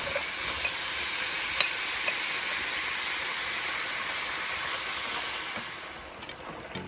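Shrimp sizzling in a hot frying pan for a creamy pasta, a loud, continuous hiss of frying oil that holds steady and fades slightly at the end, with a few faint clicks of the pan.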